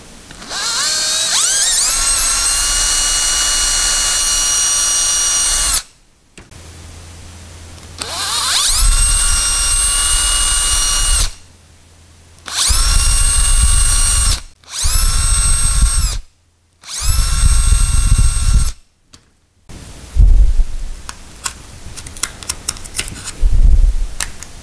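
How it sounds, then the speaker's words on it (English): A power drill bores a hole in the back of a Tower Hobbies Uproar v2 RC boat hull. Several loud, close bursts of whining motor start and stop, with short pauses between them and no talking. "I'm going to drill a hole in the back for the retaining nut."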